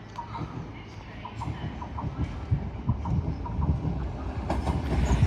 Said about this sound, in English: Arriving in now is your delayed 11:26 Hull Trains Paragon service from London King's Cross to Hull.